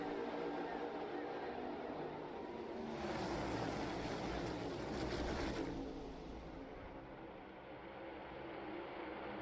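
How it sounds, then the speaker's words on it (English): Race car engines accelerating at Talladega, a broad roar that swells loudly for a few seconds in the middle before settling back to a steady rumble. "It's like a train coming up to speed as the engine churning out the horsepower to get these cars up to speed"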